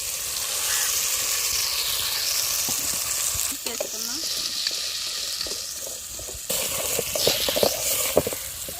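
Ginger-coconut paste and tomato-onion paste frying in hot oil for a chicken curry, a loud continuous sizzle and crackle with occasional scraping stirs, close by and without talk.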